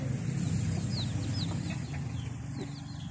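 Free-range farmyard chickens at a rural home in Sisaket, Thailand, cluck nearby with a few short higher calls over a steady low ambient hum, no voices.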